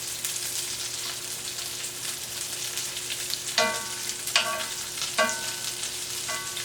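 Shrimp fry in a pan with a constant gentle sizzle, broken by four sharp utensil clinks and scrapes as the pieces are flipped one after another, with no talking.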